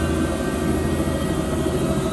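A steady, loud helicopter rotor and engine roar fills a museum flight-experience simulator, a constant close drone with no speech over it.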